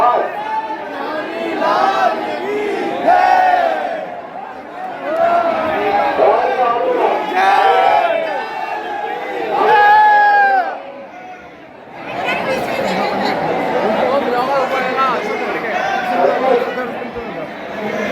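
A dense crowd packs a Vrindavan temple during Holi, a loud continuous hubbub of many overlapping voices, chanting and shouting close around, swelling and dipping briefly before the babble resumes.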